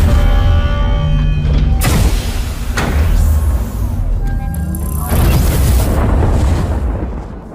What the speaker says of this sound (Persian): انگار داره تو این صدا دریچه باز میشه، لیزری شلیک میشه، صدای فضایی ایجاد میشه